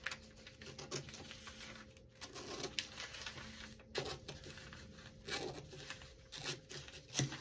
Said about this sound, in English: I'm going to take this Santa paper and I'm going to cut it down the middle